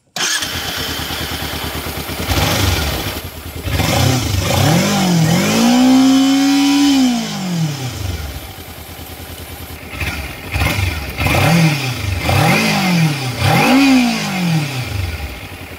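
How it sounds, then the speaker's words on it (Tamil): A Kawasaki Ninja 300 motorcycle starts up close by, then its engine and exhaust rev in several rising and falling sweeps between smooth idling, loud and nearby with no talking. "இப்போ வந்து நின்ஜா பைக்கோட சவுண்ட் கேட்கலாம்."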